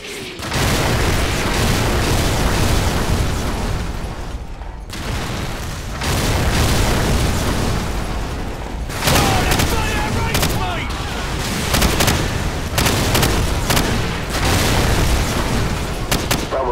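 Artillery strike explosions in Call of Duty 4: Modern Warfare, loud booms and heavy rumbling blasts mixed with bursts of gunfire, nearly continuous with a short lull, with voices talking over the barrage.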